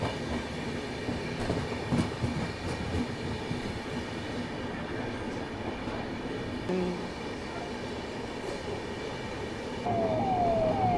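The Ahmedabad–Gorakhpur Express runs at speed, a continuous rolling rumble with rhythmic wheel clatter, and a brief tonal whine rising near the end.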